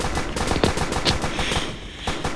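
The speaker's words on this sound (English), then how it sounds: "Oh, I'm being shot at." Rapid automatic gunfire in a video game, dense bursts of sharp shots rattling continuously and loudly for a couple of seconds with no talk.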